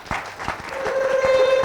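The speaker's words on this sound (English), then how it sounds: "Please give them a round of applause." An audience at an awards ceremony claps in a brief burst of applause, moderately loud, with a faint sustained tone beneath.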